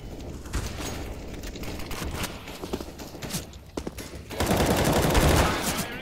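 Rapid gunfire bursts from the game Counter-Strike: Global Offensive, sharp repeated shots growing louder and denser toward the end, with no talk.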